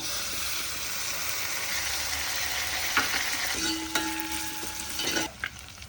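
Browned onion and tomato fry in a pan with a steady, moderately loud sizzle, broken by a few scraping stirs and short clinks near the end.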